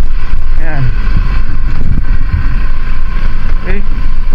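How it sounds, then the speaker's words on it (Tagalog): Wind buffeting and a low motor hum from a Supremo 5k Air 2.0 while it is being filmed, loud and constant, with a person talking over it throughout. "Plus malamang tagap niya rin tong ingay ng konting ugong ng motor. At syempre yung hangin na dumadaan sa atin habang tayo ay nagbe-video."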